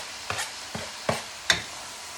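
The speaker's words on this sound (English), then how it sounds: "we're going to stir fry that" Parsley, green onions and celery leaves being stir-fried: four short scraping strokes of a utensil against the pan over a soft sizzle, spaced irregularly and close up.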